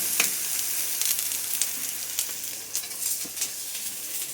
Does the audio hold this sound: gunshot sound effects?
no